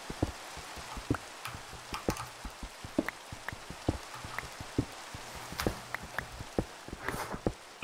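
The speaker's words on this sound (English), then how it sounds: "No, it's raining. Yeah, it's still raining." Rain falls in Minecraft as a steady soft hiss scattered with sharp, irregular droplet ticks and taps, fairly close and continuous with no talking.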